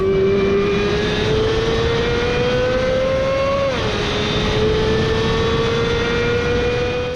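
A Corvette C8 Z06 fitted with a Fabspeed Valvetronic stainless steel exhaust revs up loudly, its pitch climbing steadily before dipping sharply and holding a high, sustained tone close to the listener.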